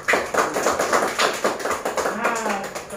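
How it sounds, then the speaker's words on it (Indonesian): A fourth-grade primary school classroom breaks into brisk, rhythmic clapping for a pupil, with voices mixed in under the applause. "kita dulu beri aplaus untuk temannya"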